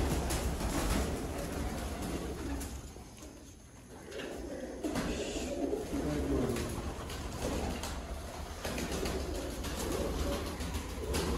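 A female pigeon kept by a pigeon fancier in Sialkot cooing softly amid soft rustling and handling noises, with quiet murmured talk in the background.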